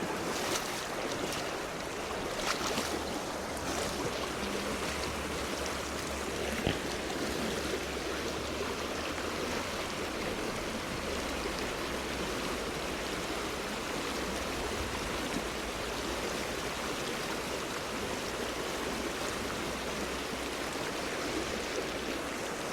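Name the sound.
flowing stream pocket water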